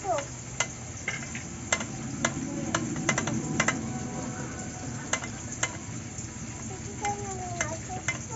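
Hot oil sizzles steadily as Dover sole (bamboo leaf fish) fries in a pan for a fish curry, with scattered sharp pops and crackles of splattering oil over a constant hiss.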